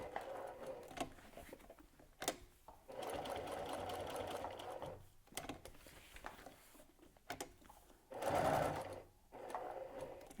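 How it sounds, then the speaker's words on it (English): A sewing machine stitches slowly through bulky layers of faux leather in short close bursts of rapid mechanical chatter, pausing between runs and ending with a louder final burst. "Stitch slowly because it is quite bulky."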